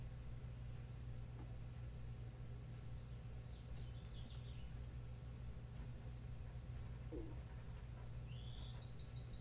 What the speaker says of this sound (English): Birds are back.